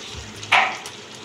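A single short stirring scrape in a hot pan of dhaba-style chicken fry masala stands out briefly against a faint background hiss.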